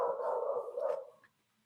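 A dog indoors lets out one drawn-out, tonal howling bark that wavers for about a second and then breaks off into quiet, heard alone at moderate distance.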